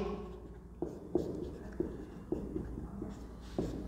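Handwriting an answer on paper during a maths worked solution, with faint pen scratches and several soft taps spaced through a quiet room.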